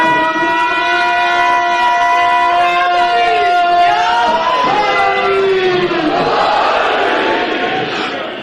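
A majlis crowd in a Muharram gathering chants slogans in unison, a loud, sustained, rising and falling chorus of many voices that swells and blends into a dense roar of shouting.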